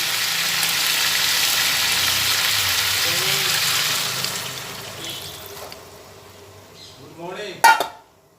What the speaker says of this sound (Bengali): এরপরে ভালোভাবে কষিয়ে নিচ্ছি কষিয়ে নিতে নিতে এর মধ্যে অল্প পরিমাণে জল দেবো